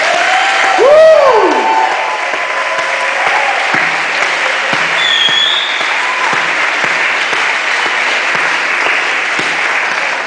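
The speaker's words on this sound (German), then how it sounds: "Und das ist ein noch fetterer Applaus hier." Loud, sustained applause fills a church celebrating its 150th anniversary, a dense wash of clapping from a large congregation with a few whoops and whistles rising over it at the start, steady throughout.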